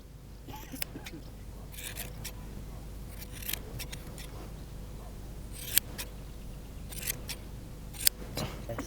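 Scissors snipping a decorative pattern into the neck hair of a horse during traditional clipping, giving a series of close, crisp metallic cuts in irregular bursts over a quiet background.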